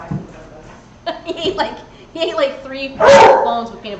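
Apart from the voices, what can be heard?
puppy dog barking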